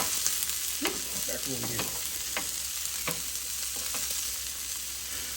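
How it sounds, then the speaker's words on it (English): Steak warming on a Blackstone griddle powered by a 2023 Hyundai IONIQ 5, a steady sizzle and fry throughout, with a few soft words spoken over it. "I'm just warming up the steak here itself"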